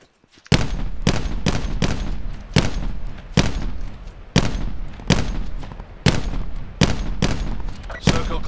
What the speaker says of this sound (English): There's bullets flying by our heads?